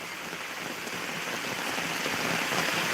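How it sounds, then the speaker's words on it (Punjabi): Heavy rain falls steadily in Dhotian village, a dense continuous hiss that swells slightly louder toward the end. "ਇੱਥੇ ਬਹੁਤ ਜ਼ਿਆਦਾ ਮੀਂਹ ਪੈ ਰਿਹਾ ਵਾ"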